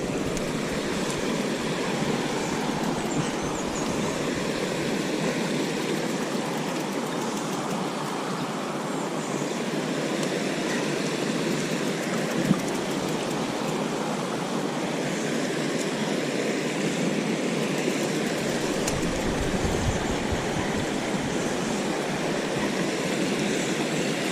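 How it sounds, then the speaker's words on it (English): Water rinsing mud off bicycle tyres outdoors on a bikepacking tour, a steady broad hiss of flowing spray that runs without a break, fairly close and even in loudness. "I'll try and rinse my tyres of some of the mud"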